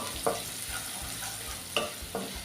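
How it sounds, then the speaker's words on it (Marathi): Ginger and garlic sautéing in hot oil for a traditional alu amti, giving a continuous soft sizzle with a few light scraping stirs and taps of the spoon, close and steady. "आलं लसूण आहे हे परतून घ्यायचं आहे"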